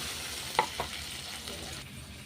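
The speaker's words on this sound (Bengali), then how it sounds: "এবার জল দিয়ে দেবো।" Water goes into a pan of frying spiced masala with yogurt for an egg fritter curry. A brief splash is followed by a continuous close sizzle and stirring, with no talking.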